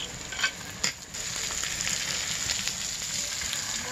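Steady loud sizzling and frying of goat meat in a pot over a clay stove, with a couple of brief splashing bursts at the start as broth goes in, then continuous bubbling hiss.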